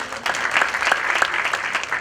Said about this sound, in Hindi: अच्छा इनके लिए जोरदार ताली।